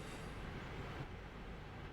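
Train running in the Train Sim World 5 video game, a faint steady rumble of rolling wheels and rail noise, continuous and distant-sounding.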